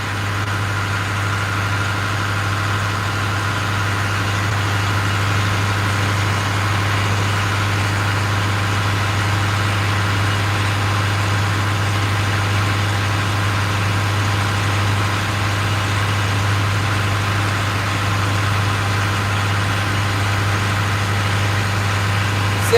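A boat's inboard engine holds steady at higher RPMs out on a bay, a loud, continuous low drone with an even hum that never varies, heard alone with no talking.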